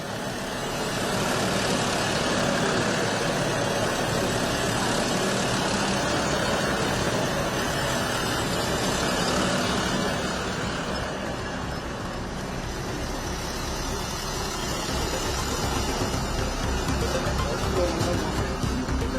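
Steady engine rumble from tractors runs throughout, loud and continuous, with a voice talking over the mechanical drone.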